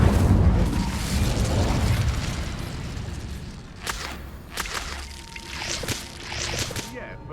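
An Incendio fire spell cast in Hogwarts Legacy erupts in a deep rumbling whoosh that fades, followed by sharper crackling flicks, with voices talking over part of it.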